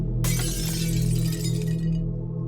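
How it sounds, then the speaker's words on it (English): A glass breaking sound effect: a loud, close shatter that bursts in sharply after a brief lead-in and crackles on for about two seconds over a low steady hum. "the sound of breaking glass jolted me awake"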